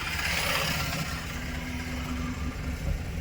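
A car engine idles steadily while a learner driver puts it into first gear, giving a low, continuous hum with a faint steady tone and no voices.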